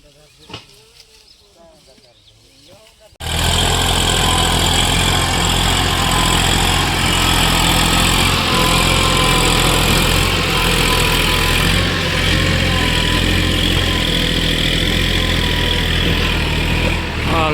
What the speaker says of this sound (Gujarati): ટ્રેક્ટર નીકળી ગયું બરોબર